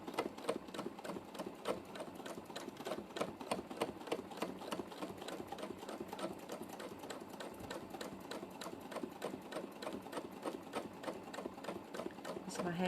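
A sewing machine runs steadily during free motion quilting, a fast, continuous rattling stitch that barely pauses, with a person talking over it.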